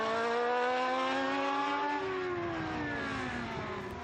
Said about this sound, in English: Another Kozlov V8, slightly fluffy down low as it picks up through the rev range